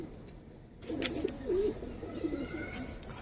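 Giribaz pigeons give soft, low coos in a short run of gurgling phrases, fairly quiet and nearby, with a few light clicks around them.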